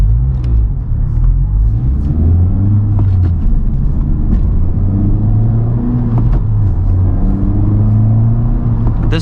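A 2018 Honda Civic Type R in sport mode accelerates with a loud, steady exhaust and engine drone heard from inside the cabin, pitch rising through the revs with no talking.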